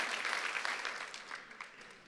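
A church congregation applauds, a soft, fairly distant wash of many clapping hands that gradually thins out toward the end.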